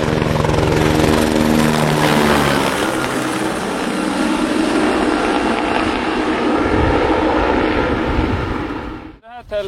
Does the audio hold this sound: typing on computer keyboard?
no